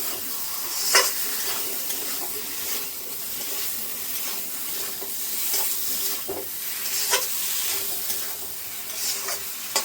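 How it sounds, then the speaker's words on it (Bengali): Potatoes are stirred into fried spice paste in a hot pan, sizzling and hissing steadily up close with intermittent scraping stirs. "মশলার সঙ্গে আলুটা একটু মিশিয়ে নেব।"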